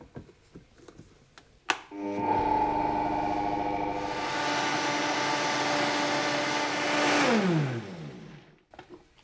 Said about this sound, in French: on vient tout simplement les verser avec l'eau dans un blender